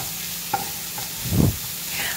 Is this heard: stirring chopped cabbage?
yes